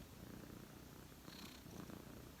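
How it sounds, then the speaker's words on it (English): A domestic cat purring, a very faint, continuous low rumble heard up close in a quiet room for a couple of seconds. "Here is Margot purring"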